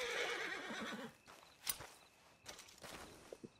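A horse in Red Dead Online lets out a faint whinny at the start, followed by scattered hoof clops and a few soft thuds, all quiet and fairly distant.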